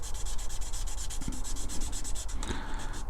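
A mark on a Dinky 259 fire engine die-cast model is rubbed out with quick, steady back-and-forth scrubbing strokes, close and continuous, with no speech.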